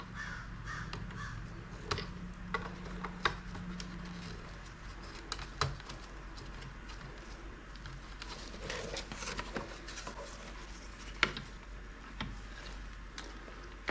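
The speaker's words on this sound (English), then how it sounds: "I think my yard is being invaded by crows." Crows caw repeatedly from a backyard, several harsh calls at irregular intervals, some nearer and louder, others distant, over faint background hum and light tapping.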